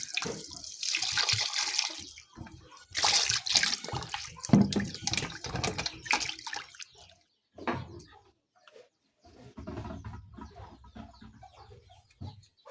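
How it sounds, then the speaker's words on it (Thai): Tap water runs and splashes in bursts as fish is rinsed clean for a pot-steamed fish dish, with a chicken clucking nearby. "นี่บนนี้แหละเราต้องล้างสะอาดเนาะ"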